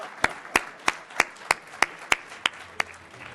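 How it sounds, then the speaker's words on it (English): Audience at a conference ballroom session clapping, a sparse run of about eight sharp, evenly spaced claps over a soft room background rather than a full ovation. "let's give them a big round of applause"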